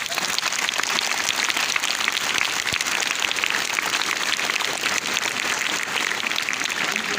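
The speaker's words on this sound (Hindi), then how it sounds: "सब टीचरों के लिए ताली मारेंगे।" A school crowd at an Independence Day gathering claps for their teachers, sustained loud applause from many hands with a constant dense texture and no pauses.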